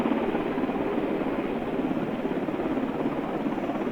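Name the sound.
helicopter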